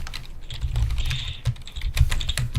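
Rapid clicking of typing on a computer keyboard, with busy, uneven keystrokes clattering continuously over a low background rumble.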